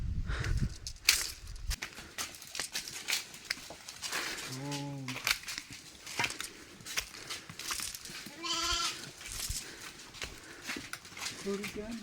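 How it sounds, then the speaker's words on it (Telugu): Goats being herded along a rural track in the Seethampeta tribal area, bleating in short wavering calls around the middle and toward the end, amid scattered outdoor noise and bursts of people talking. "మేకలు తోలుకొని వెళ్ళడానికి."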